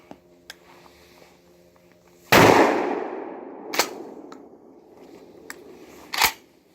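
A shotgun fires 35-year-old shells outdoors: one loud blast with a long rolling decay, followed by two sharper shots later, with faint clicks of handling between them.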